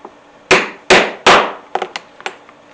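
Rivets being set with a hammer and rivet set on a saw blade storage pouch: three loud, close hammer strikes followed by several lighter, quicker taps.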